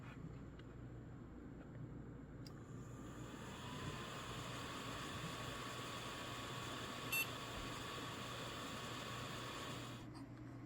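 A small cooling fan on a BKHD Intel N5105 NAS motherboard whirs in a steady, faint broadband hiss recorded up close, unchanging throughout with a couple of tiny clicks.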